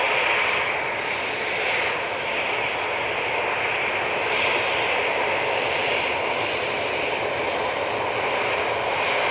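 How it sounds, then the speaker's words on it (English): A Ryanair jet departs Manchester Airport bound for Warsaw, its engines giving a continuous loud roar and whine that holds steady across the whole stretch, with no voices. "There goes that Ryanair to Warsaw."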